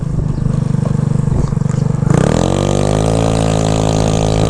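A 150cc GY6 stunt scooter with a CVT accelerates hard from takeoff, idle burble giving way to a loud rising rev as the engine climbs and holds a strong whine, close by with no talk.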